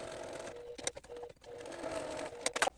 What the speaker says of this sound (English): I'm going to edge stitch it right here along the edge. So I'm going to do a double row of stitching.